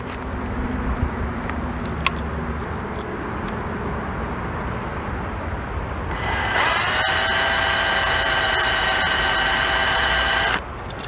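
An electric drill bit whirs as it drills out a die-cast Hot Wheels-style toy car, a steady high whine starting about midway and stopping abruptly, over a low background hum.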